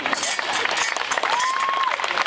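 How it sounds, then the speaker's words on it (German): A crowd at an outdoor medieval fair storytelling show claps loudly and steadily throughout, with a whistle rising over the clapping. "Applaus."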